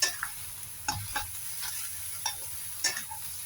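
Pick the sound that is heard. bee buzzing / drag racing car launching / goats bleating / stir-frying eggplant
stir-frying eggplant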